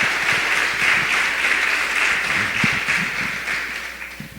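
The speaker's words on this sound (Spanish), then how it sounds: "aplaude al Rey, vamos." A church congregation claps for the King during a Sunday morning service, a sustained wash of applause from many hands, loud and even, gradually thinning toward the end.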